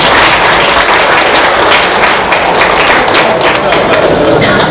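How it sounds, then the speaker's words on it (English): An audience at a business school aviation talk applauds loudly and continuously, a dense wash of clapping from many hands close by with no pauses. "So keep the claps going."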